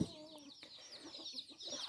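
Chickens clucking softly at a rural duck and chicken coop, faint, scattered calls over a quiet outdoor background with light insect-like hiss, no talking.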